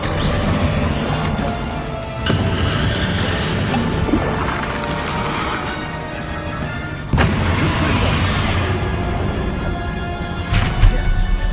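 Bombarda explosion spells cast in Hogwarts Legacy, heavy booming blasts and crashes over a constant roar of combat, loud and close, with a strong hit near the middle and another just after.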